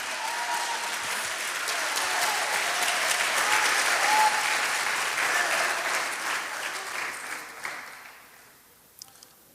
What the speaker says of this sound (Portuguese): Pode aplaudir bem forte ao Senhor mesmo